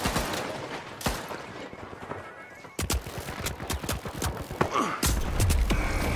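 Rocket launches and explosions in The Finals, a first-person shooter, ring out as a run of sharp, loud bangs and booms in busy combat, with a heavier blast near the end.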